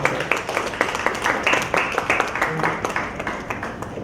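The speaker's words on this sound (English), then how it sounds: "And round of applause for yourself." An audience at the MBA Achievers Summit 2017 gives a round of applause, uneven hand claps pattering steadily for about four seconds at moderate volume with no voices over them.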